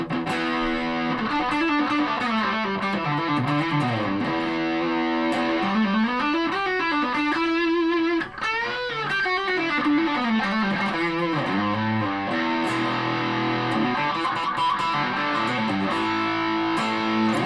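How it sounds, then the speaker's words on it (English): A heavily distorted Aria Pro II XR series electric guitar plays a continuous, wandering melodic line, loud and alone with no voices. "Let's get some distortion on."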